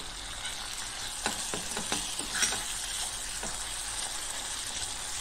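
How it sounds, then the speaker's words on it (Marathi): Salted tomatoes fry in a pan with a continuous soft sizzle, broken by a few light scrapes and clinks of stirring near the middle. "थोडंसं मीठ घालून टोमॅटो मऊ होईस्तोपर्यंत शिजवून घेऊया."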